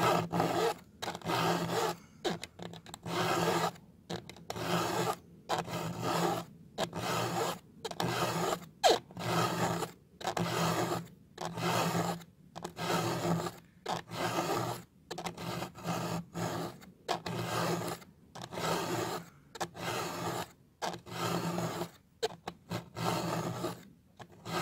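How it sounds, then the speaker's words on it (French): A flat file sharpening the cutter of a new chainsaw chain, steady rasping strokes repeating in a regular rhythm close by, with short pauses between passes. "sur une gouge neuve, je vais l'affûter à la lime"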